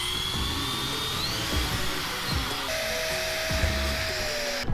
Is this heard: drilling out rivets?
yes